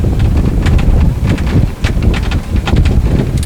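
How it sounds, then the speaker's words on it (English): A stiff, cold headwind buffets the microphone at a women's fours rowing race, roaring steadily with gusty rushes and rustling bursts and no voices. "The wind is definitely picking up here. There's a stiff headwind, a very cold, stiff headwind"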